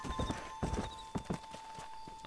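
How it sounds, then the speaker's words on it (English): Horse hooves clip-clop at a steady walking rhythm in the Western video game Red Dead Redemption, fairly close and clear, with several evenly spaced pairs of hoof strikes over a constant background tone. "any horse I ride is named Bob"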